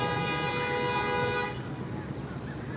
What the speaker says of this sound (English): Everyone is just honking their horns today.